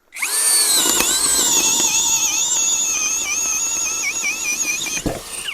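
An ELTOS DA-16DFR BL brushless cordless drill driver runs loud and steady at high speed for about five seconds, its whine holding constant before it stops with a brief click.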